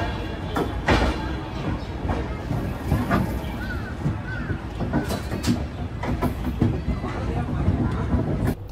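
Passenger train pulling out of Sealdah station, a moderate rolling rumble with scattered clanks and brief squeals, heard from close by, with voices in the background.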